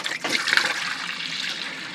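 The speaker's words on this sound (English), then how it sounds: "So I'm going to pump antifreeze through the head from the sink drain here." Pink antifreeze gushes into a sailboat sink drain, a continuous splashing, gurgling pour that starts strong and settles into a steady flow, fairly close and loud with no one talking.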